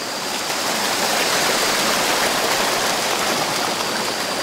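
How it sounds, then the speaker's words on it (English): River water rushing down from a waterfall in the Phatthalung jungle of Thailand, a steady, loud, broadband roar of flowing water with no breaks and no voices. "there's a waterfall down there and then the river runs all the way down"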